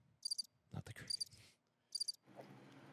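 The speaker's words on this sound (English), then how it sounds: "The crickets are back." A cricket chirping sound effect, three short bright trilled chirps spaced evenly apart, interrupted by thumps and faint murmuring voices in a quiet room.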